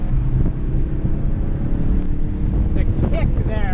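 Ford Focus RS, a 350 hp hot hatch, accelerates hard during a test drive, a loud continuous engine roar from inside the car with wind rush and some talk over it.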